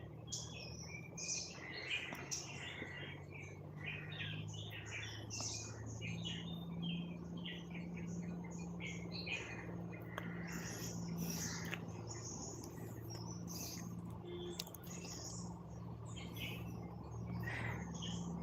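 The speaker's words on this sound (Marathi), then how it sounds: "पण खूप साऱ्या पक्ष्यांचा वेगवेगळ्या पक्ष्यांचा इथे आवाज येतो" Several different birds chirp and call at once under a peepal tree outdoors, faint and somewhat distant, over a soft low hum of insects and breeze, and no one speaks.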